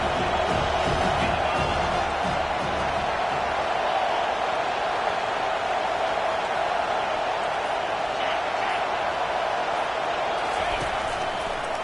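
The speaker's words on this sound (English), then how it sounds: "Here comes his home crowd as the defense tries to get off the field on third down." A Michigan home crowd at a college football game roars steadily as the defense faces third down, a dense, continuous stadium wash that stays loud throughout with a voice talking over it.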